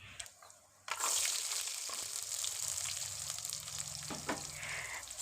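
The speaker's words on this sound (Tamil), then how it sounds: "ஒரு சட்டியில் எண்ணெய் ஊற்றி வெந்தயம், சீரகம், கடுகு இதெல்லாத்தையும் சேர்த்து பொரிய விட்டு" Small onions dropped into hot oil already crackling with fenugreek, cumin and mustard seeds, bursting into a loud, dense sizzle after a quiet start, with a few spoon scrapes near the end.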